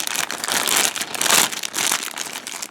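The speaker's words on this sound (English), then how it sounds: "this doesn't do me justice for trying to cut open bags" Crinkly plastic bag crackles continuously and loudly up close as a knife cuts it open at a model-kit workbench, with no voices.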